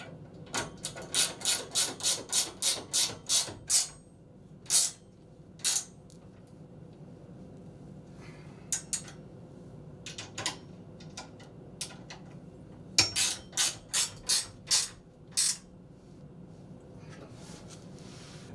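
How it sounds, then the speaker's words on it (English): A ratcheting wrench tightens bolts on a custom trailer hitch for a 1955 Chevy Bel Air, producing quick runs of sharp metallic clicks, then scattered single clicks, then another fast run, close and clear. "Ratcheting wrenches."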